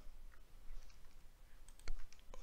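On a Windows computer keyboard, the Windows key and R are pressed together, giving a few faint, crisp key clicks with a sharper double click near the end. The room is otherwise quiet.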